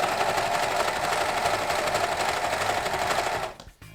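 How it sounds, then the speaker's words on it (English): A sewing machine runs steadily, stitching the folded edge of a sweatshirt cuff, its fast even whir holding close and loud for about three and a half seconds before cutting off. "fold them in half widthwise and sew the edge"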